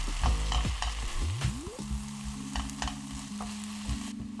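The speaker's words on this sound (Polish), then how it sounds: "niech to się posmaży z 10 minut" Minced beef frying in a pan over a low flame, a steady close sizzle broken by scraping stir strokes and a few knocks, with no voices.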